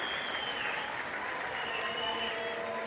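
Crowd at a women's field hockey World Cup match in The Hague applauding a good passage of play, a steady wash of clapping and chatter heard from a distance at moderate level.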